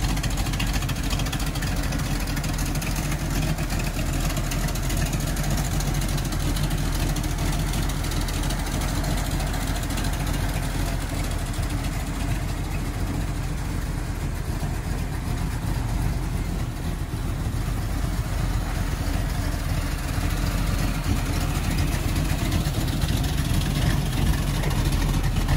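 A 1962 Corvette with a 327 cubic-inch, 300 HP V8 idles steadily, a low, even rumble that holds unchanged and close by without talk.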